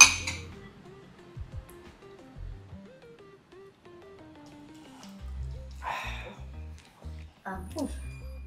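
Glasses clink together in a toast among new friends on a night out, several bright chinks scattered over a few seconds amid close, lively conversation and laughter.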